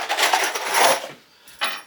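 Chunky screws are being driven into a wooden garden bench, with scraping, rasping bursts and knocks at close range, then a pause before another short burst.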